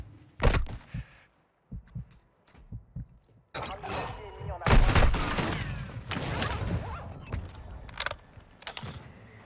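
Video-game gunfire including sniper shots: a few isolated sharp cracks early on, then a denser spell of loud shots and impacts, with talk in between.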